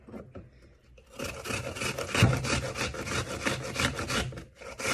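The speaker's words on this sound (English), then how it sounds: "we're going to take a grater and we're going to grate our apple up" An apple being grated by hand on a kitchen grater, rhythmic rasping strokes that start after a quiet second and repeat steadily, close and moderately loud, without speech.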